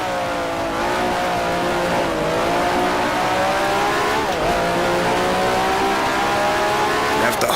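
A 1960s racing car from Grand Prix Legends screams around Monza in a loud, sustained engine note that rises and dips through gear changes, with a brief squeal of tyres, heard close and alone.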